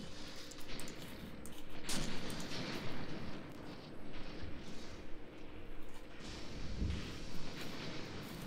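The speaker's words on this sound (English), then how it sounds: "Definitely some enemy artillery coming in, by the way." Incoming artillery fire in a WWII tank battle game set in Tunisia in 1943 rumbles as a dense, continuous low wash, with a few sharper blasts near two and seven seconds and a faint voice underneath.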